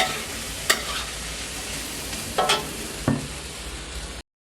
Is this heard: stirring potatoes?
yes